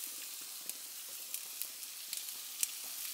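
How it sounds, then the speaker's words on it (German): Condensed milk sizzles faintly in a frying pan on a burner turned very low while making a cheese sauce, a soft steady hiss with small scattered pops and no talking. "Da machen wir als erstes unsere Kondensmilch in die Pfanne."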